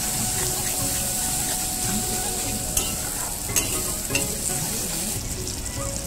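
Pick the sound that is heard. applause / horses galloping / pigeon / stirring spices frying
stirring spices frying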